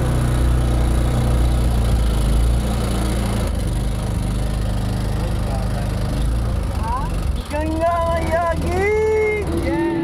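A motorboat engine drones steadily and loud on the river at Triveni Sangam, with rising and falling tonal calls, likely birds or voices, overlaid near the end.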